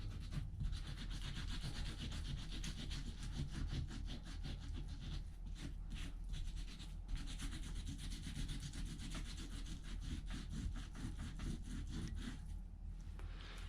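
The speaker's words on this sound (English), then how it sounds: "I'm going to start with that circular motion, start wiping and see what results we get." A wet rag rubs paper off an image transfer on wood or canvas in circular motions, a soft continuous scrubbing rasp with a rhythmic back-and-forth texture, close and fairly quiet.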